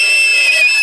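A steady, loud, thin whistling tone from a reed elk call being blown, held for under a second with a slight wavering pitch.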